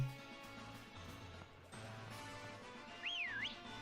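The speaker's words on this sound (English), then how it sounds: "You can see that when I'm doing the whistling thing" Someone whistles a rising and falling tune near the end, brief and fairly clear over steady background game sounds and hum.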